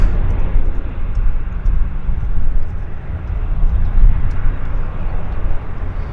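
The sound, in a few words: heavy airplane taking off at Vancouver airport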